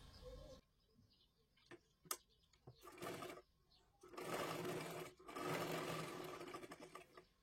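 A sewing machine runs in short close bursts, stitching a seam on a katori blouse, with pauses and small clicks between runs and a voice speaking over parts.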